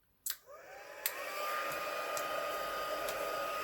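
After a sharp click, a crafting heat tool set on high switches on and spins up to a steady whooshing whir while melting embossing powder on thick cardstock, holding a constant close blowing hiss with a few faint ticks.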